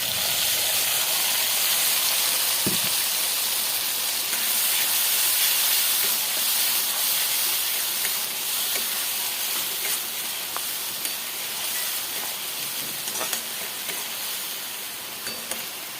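Ground tomato, ginger and garlic paste hits fried onions in a hot pan, producing a loud, continuous hissing sizzle that holds steady and only slowly eases over the length, with a few faint clinks.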